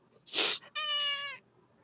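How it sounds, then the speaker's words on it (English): A house cat meows up close, a short breathy cry followed by a longer clear tonal meow, both loud and alone in a quiet room. "I hear your kitty too"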